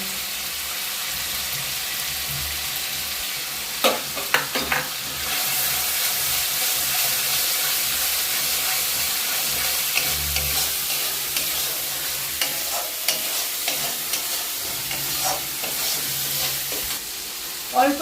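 Mustard paste frying in oil for a Bengali mustard prawn curry, a loud continuous sizzle and hiss with steady stirring and occasional spoon taps against the pan, nearby, and no talking.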